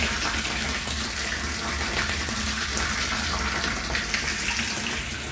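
Water gushes steadily into a tank through an iron filter system in a double-tank setup, a loud, continuous splashing rush with no pauses or voices.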